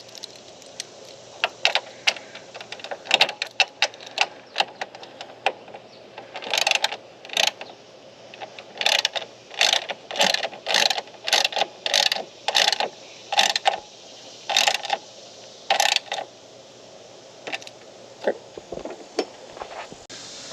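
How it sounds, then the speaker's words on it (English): A socket ratchet clicks in quick bursts, tightening the bolt on a Jeep hood strut bracket, with runs of sharp close pawl clicks separated by short pauses and no talking. "then tighten the bolt down"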